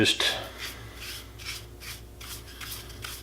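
Light sanding of poly-coated wood by hand, with rhythmic rasping strokes repeating at a steady pace, close and fairly soft.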